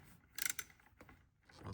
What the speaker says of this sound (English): It's going to be a 10 millimeter, and we're going to remove that nut.